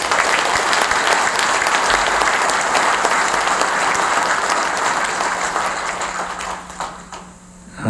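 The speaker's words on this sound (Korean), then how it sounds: "서로 큰 박수 한번 보내주시죠." A crowd of small-business owners at a 2022 New Year business gathering applauds loudly and steadily, dense clapping filling the room before tapering off at the end.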